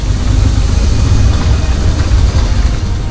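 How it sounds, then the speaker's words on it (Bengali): A car engine idling and rumbling on a stony road through a monsoon jungle, a loud, steady, close low drone with no voices. "আমাদের গাড়ির ইঞ্জিনের শব্দ, পাথুরে রাস্তায় গাড়ির চাকা ঘষার শব্দ"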